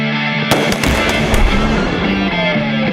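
A loud explosion in a Kia dealership ad, a sharp booming blast followed by several crackling bangs and a rumbling aftermath, close and dominant.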